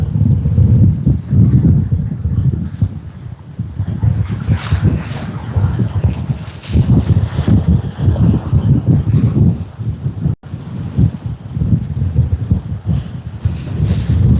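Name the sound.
wind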